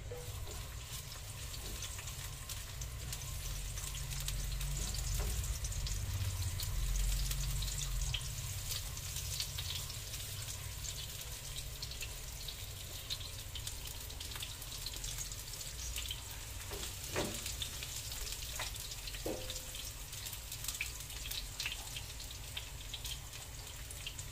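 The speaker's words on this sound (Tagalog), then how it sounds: "Lagay ko na nga po pala yung bawang." Garlic frying in a pan makes a soft, steady sizzle for a long stretch, fairly quiet and even, with a few brief clinks of a utensil partway through and no speech.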